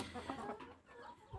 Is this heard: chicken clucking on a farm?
yes